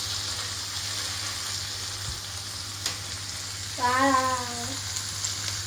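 Salmon fillets searing in a hot pan produce a steady, moderate sizzle throughout, with a short tonal squeak near the end as a spatula and tongs move; a voice briefly exclaims once.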